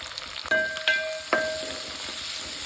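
Green chillies, sliced onion and curry leaves with turmeric fry in hot oil for a drumstick rasam, giving a steady close hiss broken by a few sharp clinks.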